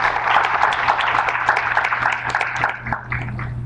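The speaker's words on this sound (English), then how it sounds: "Let's give them a round of applause." Audience clapping at a Syro-Malankara church convention gathering, a steady dense patter of many hands over a low hum, tapering slightly toward the end.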